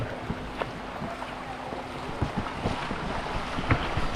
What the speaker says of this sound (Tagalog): Grabe ang tubig dito.